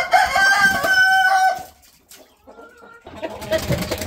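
Chickens in a coop being coaxed out to a newly fenced yard for the first time give a loud, drawn-out call, then fall quieter before a busy burst of nearby clucking returns.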